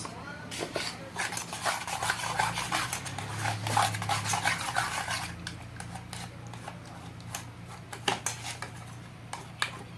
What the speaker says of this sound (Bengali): ভালো করে ফিটাতে হবে বন্ধুটা এরকম করে ফিটিয়ে নিয়েছি আরও ফিটাতে হবে